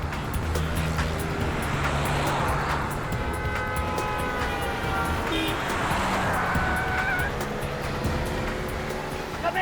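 A car drives along a road, its engine and tyre rumble a steady, continuous wash with traffic-like noise throughout, while people talk in the cabin over it.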